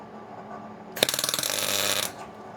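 A burst of welding on a car spare wheel clamp, a sudden crackling buzz that sputters in rapid pulses for about a second before cutting off, close and loud over a low background hum.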